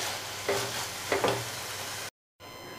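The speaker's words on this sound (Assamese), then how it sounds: "নাৰিকল আৰু গুড়খিনি এতিয়া মই অকণমান ভাজি ল'ম" Soft, quiet hiss of grated coconut and jaggery frying in a pan, with a couple of brief scraping stirs, then a short gap of silence.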